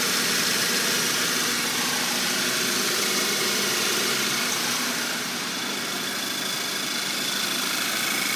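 A 2015 VW Tiguan SE 4Motion with a 2-liter turbo engine idles steadily, a continuous close mechanical hum and hiss with no breaks and no talking.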